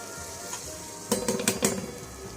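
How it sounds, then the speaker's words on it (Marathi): Spices and masala for kothimbir vadi sautéing in hot oil, a steady close sizzle with a burst of louder spatter and stirring scrapes in the second half, no voices. "2-3 मिनिटं हे साहित्य छान असं तेलामध्ये परतवून घ्या व्यवस्थित"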